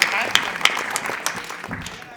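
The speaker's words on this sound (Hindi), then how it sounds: "जोरदार तालियां अवनीश त्रिपाठी" An audience claps for poet Avnish Tripathi at a kavi sammelan, with a dense patter of hands and a few sharper claps near the start, gradually thinning toward the end.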